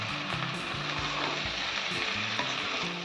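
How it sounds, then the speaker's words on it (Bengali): A spice paste with ground cumin, turmeric, coriander, salt and sugar sautéing in a pan, a continuous loud sizzle with stirring scrapes, close and with no talk. "একটু কষিয়ে নেব।"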